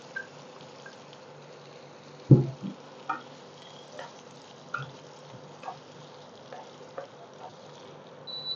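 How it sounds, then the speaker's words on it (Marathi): Chopped onions fry in oil in a pan with a soft, steady sizzle, punctuated by several quiet scrapes and taps of stirring, close by and with no one talking. "कांदा एकदम खरपूस करून घ्यायचा आहे एकदम"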